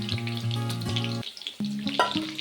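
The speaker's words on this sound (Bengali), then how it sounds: "একটু হালকা করে ভেজে" Mutton lightly frying in a pan, crackling and sizzling in short bursts with tonal clinks of a utensil stirring, close and moderately quiet.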